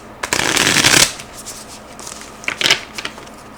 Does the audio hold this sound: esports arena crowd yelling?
no